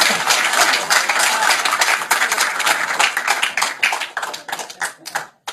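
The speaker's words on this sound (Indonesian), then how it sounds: "Awas, tepuk tangan Pak." Studio audience claps through a talk-show exchange with a Muslim preacher, a dense burst of hand claps that thins into scattered, separate claps toward the end, with possible voices underneath.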